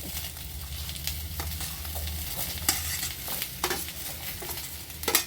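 Ingredients roasting in a pan for a North Karnataka brinjal curry, with steady sizzling and frying under repeated stirring and scraping clinks, close and continuous without talk.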